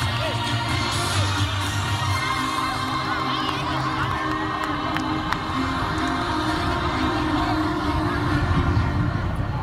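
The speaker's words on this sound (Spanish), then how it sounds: "Fuerte aplauso para este equipo." A crowd at a youth football club's season team presentation cheers and claps for a team, a dense, steady roar of applause and shouts with some whoops throughout.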